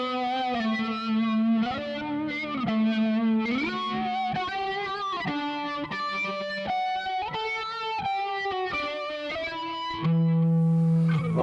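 Sustained electric guitar notes and chords through a Danelectro Psycho Flange pedal, drenched in a swirling, sweeping flanger effect with distortion, played steadily and loud with no voices.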